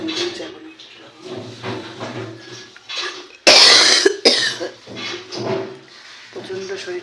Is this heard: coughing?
yes